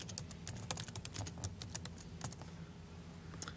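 Someone types a search on a Mac computer keyboard: a quick, uneven run of close, soft key clicks that thins out toward the end, with one last tap at the close and no talking.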